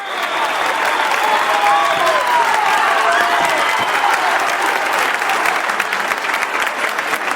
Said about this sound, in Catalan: Jo crec que això hauríem de posar un aplaudiment.